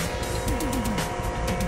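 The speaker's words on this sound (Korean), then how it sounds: "이거 전기버스에서 뭔 그 소리가 이렇게 많이 나냐?" An electric bus gives off a steady, high electric whine with rising and falling tonal sweeps, heard close and loud over background hum without anyone speaking.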